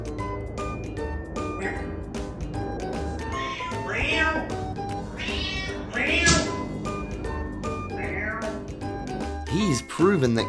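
A pet cat meows several times in a busy home, its cries rising over steady background music and household noise, with people talking nearby.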